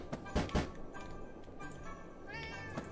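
A whiny cat meows twice in quick succession, close and clear, then gives a softer, drawn-out mew against quiet background noise.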